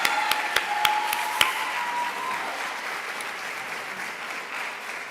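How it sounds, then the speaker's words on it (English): A school audience at the Forestville academic awards gives a sustained round of applause for the award recipients and their teachers, dense and steady throughout, with a few sharper claps standing out early on. "let's give one serious Forestville round of applause for all the award recipients and their teachers"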